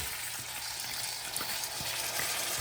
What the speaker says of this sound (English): We're going to throw this rice inside here, and we're going to get it browning.